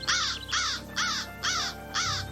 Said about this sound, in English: What is that, a crow?